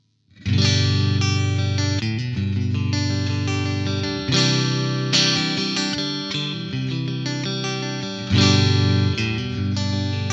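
Distorted electric guitar, a Lavish Merisandre 2022 Model on two single-coil pickups combined, strums sustained chords, loud and continuous with a few fresh attacks, thick and gritty with a shimmering chorus.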